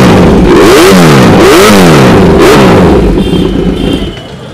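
Titanium Austin Racing aftermarket exhaust on a superbike revving hard, with loud rising and falling engine sweeps repeated twice before easing off to a lower, steadier idle.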